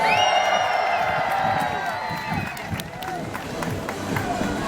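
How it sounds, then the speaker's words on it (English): A crowd cheers and whoops at a stunt dog show at the State Fair, loud and sustained across the stands, with a bright whistling or squealing tone above the roar early on. "Now that cheering is great, guys"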